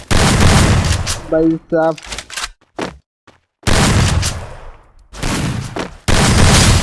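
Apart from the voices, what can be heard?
gunfire from the video game Free Fire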